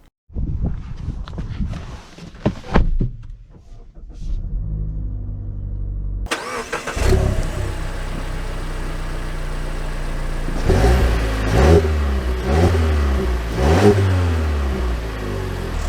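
The 2022 Mazda CX-5 Signature Turbo engine cranks and fires after a few clicks and handling sounds, settles into a smooth idle, then revs briefly several times as the car pulls away, close and clear.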